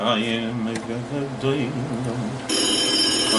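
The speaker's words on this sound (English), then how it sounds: "phone's ringing." A telephone bell rings in a 1938 film, its trilling ring sounding under and between people talking, with a steady background hum and a brighter ringing burst near the end.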